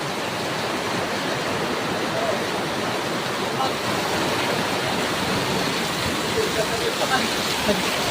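Dense, heavy rain roars in a constant wash of noise in Silang, Cavite, a thick steady downpour with no pauses.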